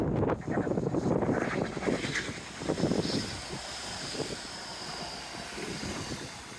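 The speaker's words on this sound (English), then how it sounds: "It is flipping windy today though." Strong gusting wind buffets the microphone outdoors, a loud roaring rumble that swells and eases over several seconds and stays constant throughout.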